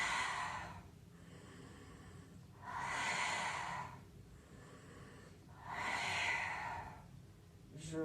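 Slow, deliberate breaths come during a Pilates exercise, three long airy breaths spaced evenly a few seconds apart. They are close and moderately loud, with quiet gaps between them and no speech.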